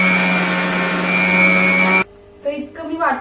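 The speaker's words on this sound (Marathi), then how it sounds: "तर आता आपण मिक्सरला फिरवून घेऊयात" An electric mixer grinder grinds dried flowers for homemade dhoop, a loud steady motor whine for about two seconds that cuts off abruptly, followed by quieter clattering and a few faint sounds.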